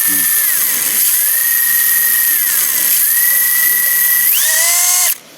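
A high-pitched RC drift car electric motor whines steadily, its pitch sweeping up and down with throttle changes, then surging sharply higher as the speed controller's turbo engages before cutting off abruptly.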